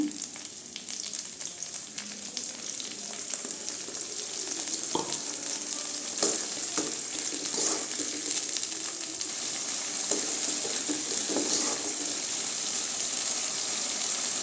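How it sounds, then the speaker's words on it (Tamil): Ground tomato paste sautéing in a pan for a drumstick and brinjal kara kuzhambu, a loud continuous hissing sizzle with occasional soft scrapes of stirring throughout. "தக்காளி நல்லா பச்சை வாசம் போகிற அளவுக்கு வதக்கிக்கலாங்க"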